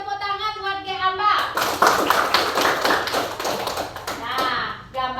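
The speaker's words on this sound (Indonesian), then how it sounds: "Kasih tepuk tangan buat Ge apa?" Grade-five pupils in a classroom break into a burst of hand clapping lasting a few seconds, mixed with children's voices and preceded by a sung or spoken phrase.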